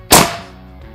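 A single sharp shot from a Ruger AWM Turbo PCP air rifle, a loud crack followed by a brief decaying tail and quiet afterward.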